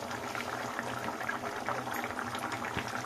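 Katla fish curry with poppy seed bubbles in a pan, a steady close simmering burble and soft hiss with no talking.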